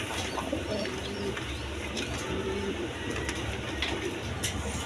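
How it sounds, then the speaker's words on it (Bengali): Domestic pigeons, including breeding and racing birds, coo softly in low repeated bursts against a steady background hiss, with no talk. "দেখেন একদম কিউট কবুতর, ডিম বাচ্চা করানো কবুতর, রানিং কবুতর"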